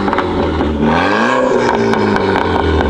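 A Renault Clio 4 RS stage 3 with a 1.6 litre engine revs loudly and steadily, the pitch dipping and rising again through a continuous, close engine roar with no talking.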